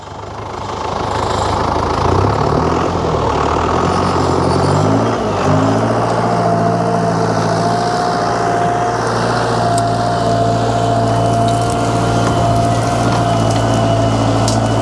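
An 83-horsepower tractor hauls a plough on a potato field on a Swiss farm, its engine droning loud and steady with a low, throbbing labouring note that holds throughout.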